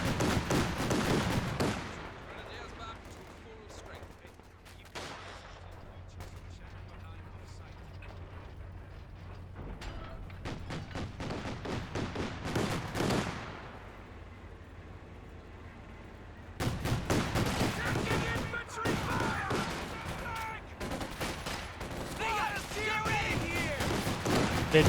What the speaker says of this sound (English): Black half-track sitting on up, firing away.